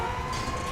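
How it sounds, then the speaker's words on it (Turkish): Fire engine siren in the GTA V video game, a steady wailing tone with a sustained high pitch that holds at moderate level through a short burst, with no talk over it. "Aha anda geldi itfaiye."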